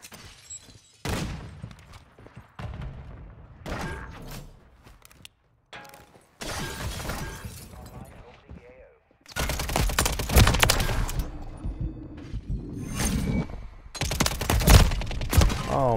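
Bursts of Uzi submachine gun fire in Call of Duty MW3, several loud rapid volleys separated by quieter gaps, with mechanical clicks and clatter in between.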